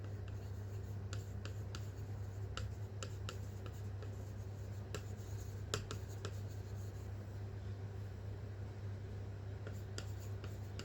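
A pen scratches across paper in short, quiet bursts as a syllogism reasoning question is written out, soft strokes over a low steady hum.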